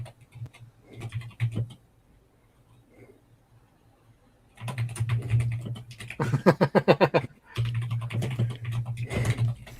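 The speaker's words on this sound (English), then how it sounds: "Clearly, John has a mechanical keyboard because I can hear you furiously typing right now." Rapid bursts of typing on a mechanical computer keyboard, close and busy, with clattering key strikes coming in clusters and stopping briefly in between; a low steady hum runs underneath.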